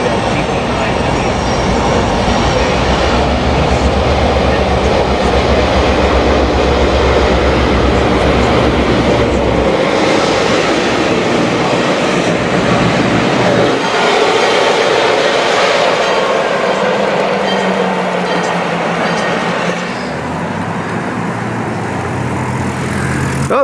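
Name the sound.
Polar Express excursion train running in Santa Cruz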